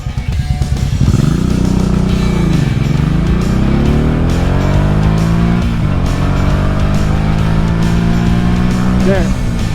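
A Honda Shadow motorcycle accelerates hard in a 0-60 mph run, its loud, close engine roar climbing in pitch through the gears with a clear dip at each shift.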